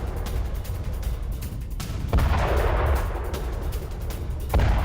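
IDF artillery fire in southern Lebanon strikes a Hezbollah base: heavy booming blasts land at intervals over a continuous low rumble, with two sharper reports standing out loudly against the background.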